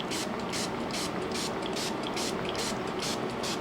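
99% isopropyl alcohol sprayed onto glitter-topped cold process soap, close and steady, a continuous hiss with rhythmic pulses from repeated trigger pumps, with no talking.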